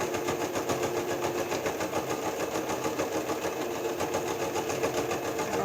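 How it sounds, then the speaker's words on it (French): A sewing machine runs a steady, continuous stitch along a 1 cm seam on a fabric sewing bag, a close, even mechanical whir with a fine rapid rhythm throughout and no talking. "vous faites la couture"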